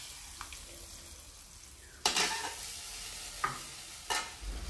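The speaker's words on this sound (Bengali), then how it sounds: "ভাজা হয়ে আসলে এগুলো আমি ঢেলে দেব ডাউলের মধ্যে। ঢেলে নাড়াচাড়া দিয়ে সমস্ত ডাউলের সাথে এগুলো ভালোভাবে মিশিয়ে নেব।" Fried tempering is poured into masha kalai dal cooked with bottle gourd, and a sudden loud sizzle flares midway, followed by softer stirring bursts over a quiet background hiss.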